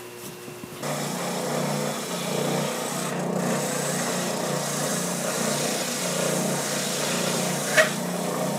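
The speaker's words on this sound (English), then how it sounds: "We'll take them over to the sander and get them sanded up." Power sander working on small wooden pieces in a workshop, a steady low motor hum with rubbing grit running continuously at moderate level, broken by one short sharp tap near the end.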